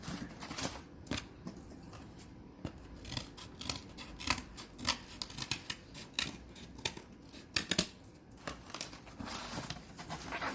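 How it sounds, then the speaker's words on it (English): Scissors snip through faux floral stems in a steady run of close, crisp cuts, with faint rustling of the artificial flowers between snips and no talking. "Oh, I'm going to cut a little bit more."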